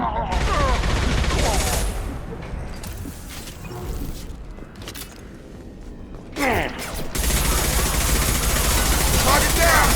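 Heavy gunfire in Mass Effect 2 during combat on Omega, loud sustained bursts that drop away briefly mid-stretch and then return, with mechanical clatter and voices calling out over the shooting.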